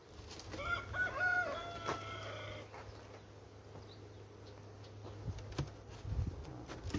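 Several roosters crow in overlapping calls near the start, then scattered clucks and bird sounds continue over a low steady hum, with an apiary setting where queen cells are being raised.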